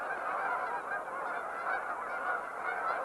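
Dense flock of geese clustered on a marsh, a continuous loud chorus of overlapping honks with no break, close and steady throughout.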